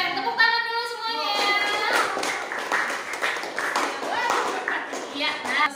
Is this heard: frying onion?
no